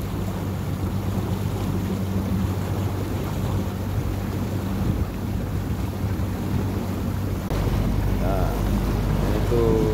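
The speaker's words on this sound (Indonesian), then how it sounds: "itu pelabuhan feri Ambu-Ambu yang mau ke Mentawai" Steady wind rushes across the microphone at the Ambu-Ambu ferry port for boats to Mentawai, with a broad low rumble of water and boats that swells slightly louder toward the end.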